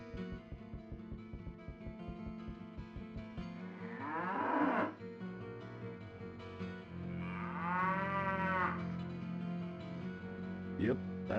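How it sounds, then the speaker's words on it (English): Two drawn-out, sweeping cow moos from a retro video game, each rising and falling, separated by a pause amid chiptune-style game music and effects. "Yep, that's a cow,"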